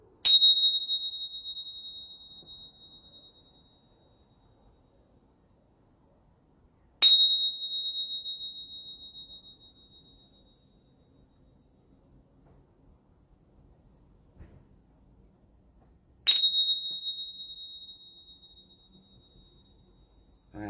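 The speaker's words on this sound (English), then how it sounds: "Let's clear the energy before we do this so we can have some chimes" Three bright metallic chimes struck a few seconds apart, each ringing out clearly and decaying slowly into near silence, played to clear energy in a quiet room.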